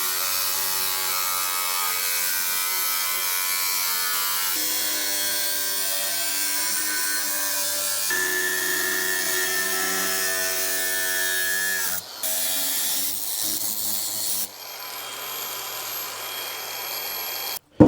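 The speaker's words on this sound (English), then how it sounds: "So I'm going to grab the cutoff wheel and we'll get this cut up." An abrasive cutoff wheel slices through the steel driver's side floor pan of a dentside Ford truck, giving a loud, continuous high-pitched grinding whine that shifts in pitch as it cuts and then stops abruptly near the end.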